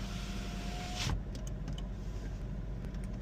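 Power windows on a 2020 Chevy Trax whir upward as an electric motor hums steadily, ending with a soft thunk, followed by faint clicks over a low car-cabin rumble.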